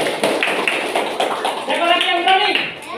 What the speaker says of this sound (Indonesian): tepuk tangan dulu untuk Reni